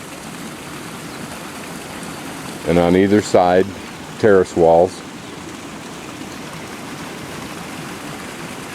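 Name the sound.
water flowing along an Inca terrace channel at Pisac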